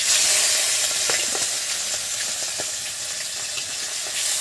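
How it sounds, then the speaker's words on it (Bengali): Hilsa fish heads rubbed with salt and turmeric fry in hot oil, giving a loud, dense, unbroken sizzle and hiss close up, with small pops and crackles scattered through it and no talking. "বন্ধুরা এবার নুন আর হলুদ মাখানো ইলিশ মাছের যে মাথাগুলো আমি এই তেলের মধ্যে দিয়ে দিচ্ছি"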